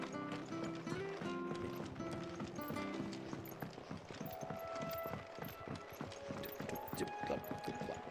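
Chocobo footsteps clip-clop in a steady, quick rhythm from Final Fantasy XVI, running under game music with a light trace of voice.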